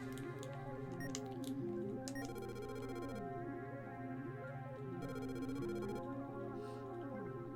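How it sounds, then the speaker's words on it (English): Telephone ringing after dialing in The Portopia Serial Murder Case video game, heard as quiet repeated electronic ring bursts over a steady synthesized game music loop. "I'm dialing the phone."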